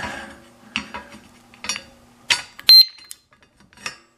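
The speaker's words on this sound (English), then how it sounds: "that beep there is it's armed itself" A short, high electronic beep as a motorcycle disc brake lock alarm arms itself, amid metallic clinks and handling noises close to the microphone.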